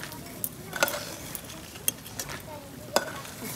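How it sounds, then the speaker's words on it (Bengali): Bitter gourd fries in oil for shukto, a soft steady sizzle broken by a few sharp metallic clinks of a utensil against the pan. "এখন আমি শুক্তোর জন্য উচ্ছেটা ভেজে তুলে রাখবো।"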